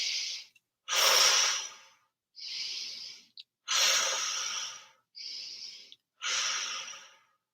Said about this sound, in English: You breathe if you can, in through your nose, and fill your whole body up, and then out through your mouth.